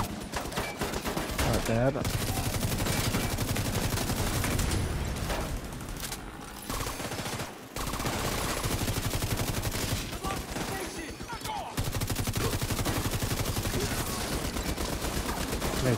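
Gunshots in The Division 2 rattle almost constantly through a dense firefight, with rapid automatic bursts layered over game noise. A voice speaks briefly.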